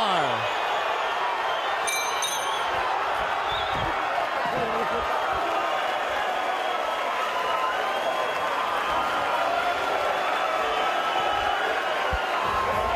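A boxing arena crowd roars at the close of a women's heavyweight bout, a steady, distant wash of cheering and whoops under close commentary.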